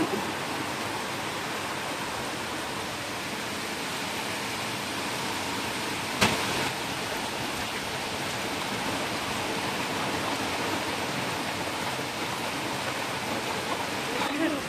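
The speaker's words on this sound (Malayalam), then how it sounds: "കാറ്റും മഴയും" Steady wind and rain hiss outdoors in a rural home setting, a continuous broadband wash with one brief sharp knock midway and no talk.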